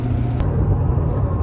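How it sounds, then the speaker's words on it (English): Steady road rumble and engine hum from inside a 2008 Chrysler Sebring rolling on new tires, a loud continuous low drone with a brief faint hiss early on and no distinct events. "So we were driving the Chrysler now with the new tires put on"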